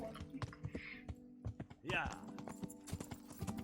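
Horse hooves clip-clop at a steady rhythm in the medieval game Kingdom Come: Deliverance, close and fairly quiet, with scattered clicks and a short whoosh partway through.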